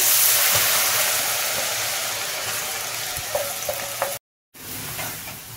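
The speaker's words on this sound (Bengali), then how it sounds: "বাদ বাকি আলুটাও এরপরে ভেজে নিচ্ছি।" Potato shreds frying in hot oil for crispy potato nest balls, a loud, dense, continuous crackling sizzle close by, with a few light clinks and a brief dropout near the end.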